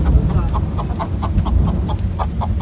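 Several chickens cluck in a short, uneven run of calls close by in rainy weather, with a person talking softly over them.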